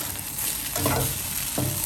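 Flat rice noodles sizzle and scrape in a hot wok during stir-frying, with a few quick stirring strokes over a constant frying hiss.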